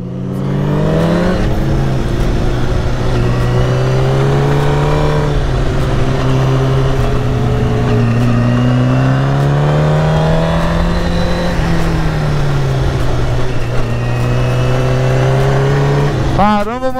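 A motorcycle engine hums and revs continuously while riding, pitch rising and falling with throttle changes, close and loud throughout.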